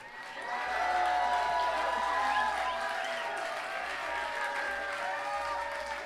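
A concert crowd at Terrapin Crossroads applauds and cheers for a band, a broad wash of clapping and whoops that swells in the first second, then holds steady with scattered voices calling out.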